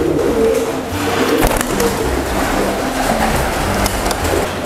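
Young pigeons coo and call in an open outdoor loft. Steady, fairly loud cooing runs throughout over a constant background hiss, with no talking.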